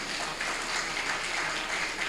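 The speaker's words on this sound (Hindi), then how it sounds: "ताली बजाना तो बजा लीजिए" Audience applause at a spiritual talk in Chhattisgarh, a dense, steady wash of many hands clapping together without pause for about two seconds.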